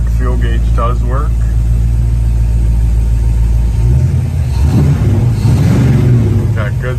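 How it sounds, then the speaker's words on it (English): A 1969 Dodge Charger with a 351 engine and dual exhaust rumbles steadily at idle, loud and close, with a deeper low burble swelling toward the end while someone talks over it. "Got good sounding dual exhaust on it."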